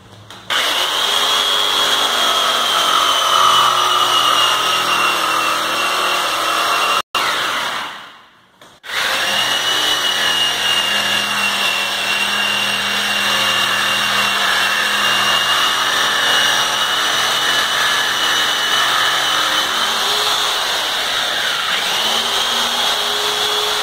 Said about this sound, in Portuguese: E depois vamos entrar com a tico-tico.